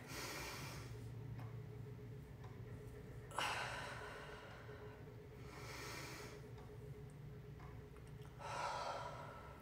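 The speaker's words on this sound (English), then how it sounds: "breathing in for 2 seconds, holding for 4, breathe out for 2" Slow, deep breaths in and out during a home workout, each exhale a breathy, hissing rush arriving at spaced intervals, close and fairly quiet, with no voices.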